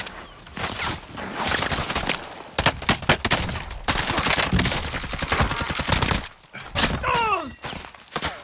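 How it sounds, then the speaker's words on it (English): Rapid bursts of automatic gunfire and shots from the Call of Duty video game, loud and dense, with near-continuous firing, brief gaps and a few sweeping whizzes toward the end. "I'm under fire."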